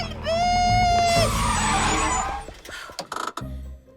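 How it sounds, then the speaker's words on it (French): A cartoon bus brakes hard, its tires letting out a long, loud skidding squeal that fades into rattling clatter and a few bumps as it stops. "Stop! Arrêtez le bus!"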